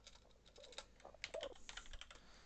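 Someone types on a computer keyboard with a quick, irregular patter of soft key clicks. The taps sound close but quiet, and no one speaks over them.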